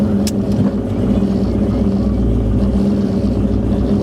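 Race car on its second pass, launching at 3,200 RPM with 2 degrees of timing, a loud steady engine drone that holds close and constant throughout, with a brief sharp click near the start.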